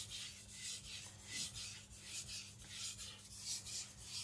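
A Tojiro Shirogami nakiri knife is drawn over a whetstone in rhythmic rasping strokes, about two per second, soft and close with a gritty scraping texture and no speech.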